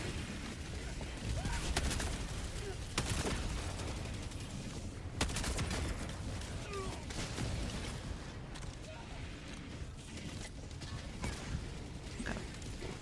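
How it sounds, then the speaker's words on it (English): Rapid weapon fire and explosive booms from napalm missiles in the video game Helldivers 2, a dense, continuous barrage of repeated bursts and blasts that holds steady and loud for the whole stretch. "the napalm missiles, if you shoot them at like walls or like structures or whatever, they actually like bounce off of them and then spread the fire even more"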